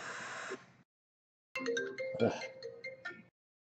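A phone ringtone plays indoors, a short melodic burst, a pause, then a longer run of tonal chiming notes, moderately loud and close with no talk over it.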